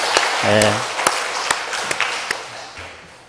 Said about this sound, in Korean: 박수로 안녕하겠습니다